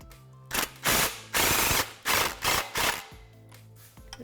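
A ratchet wrench clicks in several short bursts while snugging an exhaust clamp on a 2015-2017 Mustang GT stainless steel cat-back exhaust, close and fairly quiet with pauses between strokes.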